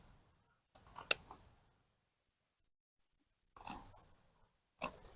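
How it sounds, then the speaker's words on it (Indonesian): Scissors snipping through folded material in three separate bursts of crisp cutting, near and fairly quiet, with silence between them. "jadi di bagian ujung sini kita gunting"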